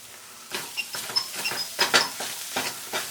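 Ingredients for a Jamaican lentil curry fry in a pot while a spoon stirs them in repeated scraping strokes about every half second over a soft sizzle, close and alone.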